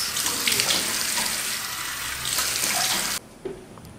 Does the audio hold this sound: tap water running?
yes